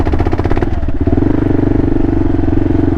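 A KLR650 motorcycle fitted with progressive fork springs is bounced up and down, giving a loud, close, low rumbling thud and clatter that settles into a steady drone.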